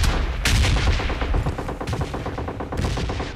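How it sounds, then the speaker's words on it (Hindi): Rapid bursts of automatic gunfire in PUBG Lite crackle loudly and close, with repeated volleys cutting in and out over a dense, steady barrage and no talking. "अभी भी बंदा गोली चला जा रहा है"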